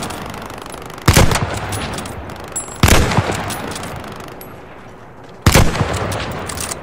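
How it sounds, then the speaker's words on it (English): Gunfire in a video game shootout, three loud, heavy shots or short bursts spaced a couple of seconds apart, each cracking sharply and then trailing off in a long rumbling echo. "Somebody shooting out the shop at somebody over there."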